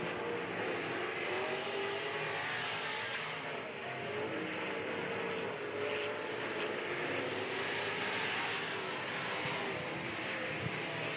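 IMCA modified race cars roar around the RPM Speedway track in a constant, dense engine drone with shifting revs as the pack runs down the back straightaway, moderately distant and continuous with no clear talking.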